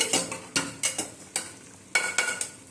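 A spoon stirs raw papaya gravy in a pot as it begins to boil, making a steady run of about seven loud scraping strokes at a brisk, even rhythm.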